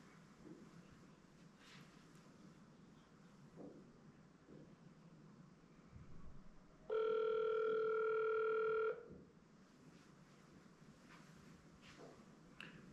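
A telephone call's ringback tone: one steady, loud electronic tone lasting about two seconds, rising clearly above a faint, murky room background, then cutting off.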